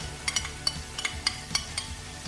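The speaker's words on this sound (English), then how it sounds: "It's a beautiful sound when you go with a spoon on the pot." A metal spoon scrapes and clinks against a pot of cooking onions for vermicelli soup in a quick irregular series of bright taps, with a low sizzle underneath.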